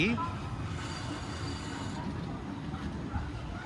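The Villupuram Intercity Express pulls out of Tirupati station with a low continuous rumble of wheels and carriages, steady and moderately close, without clear speech over it.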